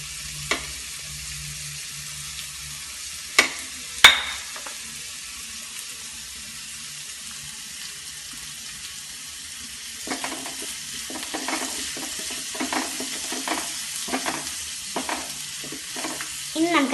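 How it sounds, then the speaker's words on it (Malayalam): Fish roe sautéed with turmeric and salt in a pan for a Kerala thoran, opening with quiet low sizzling and a few sharp clinks, then scraping stirring strokes that grow busier and louder toward the end. "ഇനി നമുക്ക് നല്ലപോലെ വഴറ്റി കൊടുക്കാം"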